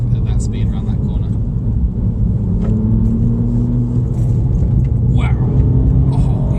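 A 2018 Ford Fiesta ST3, front-wheel drive, taken fast around a corner: a steady, loud engine drone with a low rumble runs throughout, and voices talk over it.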